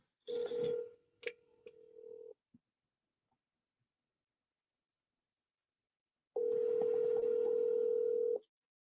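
Telephone dial tones from follow-up calls in commercial real estate cold calling: a steady tone broken by clicks and a short dropout, then silence, then a second loud, unbroken tone lasting about two seconds.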